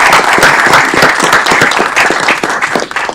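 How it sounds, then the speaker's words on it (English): A council meeting audience in a chamber breaks into loud, dense applause, many hands clapping close together in a continuous wash that holds steady throughout. "Let's give them a round of applause,"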